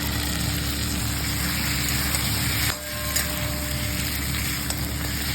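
A pan of Bengali shukto, mixed vegetables with turmeric, sugar and a fried fish head, being stirred over heat, giving a steady close sizzle and scraping that dips briefly partway through before resuming.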